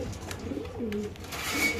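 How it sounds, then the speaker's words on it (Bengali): Pigeons in a cage coo softly, a few low murmuring calls over faint background rustle and distant noise, quiet and brief. "46 নাম্বার কবুতরের খাঁচা।"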